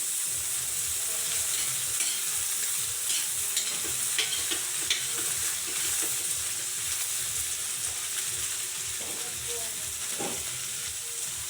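Pancit bihon with canton noodles stir-fried in a pan, a steady close sizzle under repeated scraping and tossing strokes that continue throughout without any talking.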